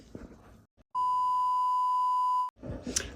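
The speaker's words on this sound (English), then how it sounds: "And our timer just went off." A kitchen timer gives one long steady electronic beep lasting about a second and a half while banana bread bakes, with faint voices and household noise just before and after it.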